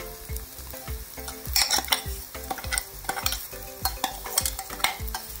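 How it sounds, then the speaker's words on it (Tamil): Onions sautéed with a ground coconut and red chili mixture over low heat, loud rhythmic stirring scrapes and thumps in the pan over a constant close sizzle. "இந்த வரமிளகாவோட பச்சை ஃப்ளேவர் போகிற வரைக்கும் நம்ம வந்து இதை வதக்குவோம்."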